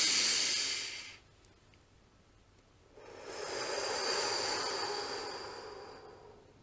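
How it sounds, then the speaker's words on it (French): A slow, deep breath drawn in through the nose and let out through the mouth during a guided meditation, a loud airy exhale, a quiet pause, then a long soft breath alone with no talking. "L'inspiration se fera par le nez et l'expiration se fera par la bouche."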